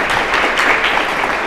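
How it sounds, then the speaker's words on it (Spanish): Applause from an audience at a presentation, honouring a production team member. The clapping is dense, steady and moderately loud, and it fills the whole short stretch with no break. "un aplauso"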